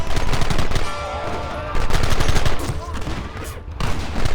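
Rapid gunfire from a Red Dead Redemption shootout, continuous rattling volleys of rifle and machine-gun shots, loud and close, with brief gaps between bursts.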